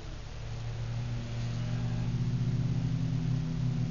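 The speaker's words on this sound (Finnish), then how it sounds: "Volvo käy kolmella." Volvo rally car engine running on three cylinders, a steady, uneven droning rev held at a moderate distance, rising slightly and continuing throughout with no talking.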